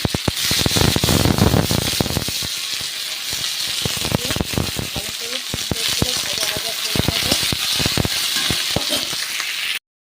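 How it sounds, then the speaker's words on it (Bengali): Onion and tomato hit hot oil already seasoned with bay leaf, dried chilli and cumin, setting off a loud, dense sizzle with sharp crackling pops and stirring clinks that run steadily, close up. "এবার এখানে টমেটোটা পেঁয়াজটা একেবারে দিয়ে দেবো।"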